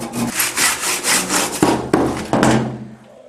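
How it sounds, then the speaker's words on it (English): A hand saw cuts a mitre in a cornice, giving close rhythmic rasping strokes, about seven back-and-forth passes that slow and then stop, with no talk. "Right, we cut the mitre there,"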